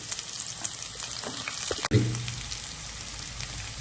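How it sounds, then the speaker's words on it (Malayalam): Ginger and garlic sauté in oil in a pan, giving a soft continuous sizzle at close range, with one sudden clatter partway through and a slightly fuller hiss afterward, with no voices. "പാനിലോട്ട് നമുക്ക് എണ്ണ ഒഴിച്ച് ഇഞ്ചിയും പൂണ്ടും ഇതിനകത്തോട്ടിട്ട് വഴറ്റിയെടുക്കാം"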